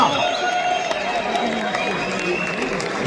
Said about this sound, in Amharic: እስቲ ለበረከት ሞቅ ያለ ጭብጨባ